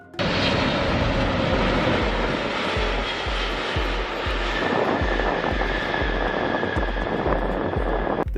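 Cabin of a Biman Bangladesh Boeing 777-300 in flight on a charter from Dhaka to Wuhan, a steady, loud engine roar and airflow rush filling the space without letup.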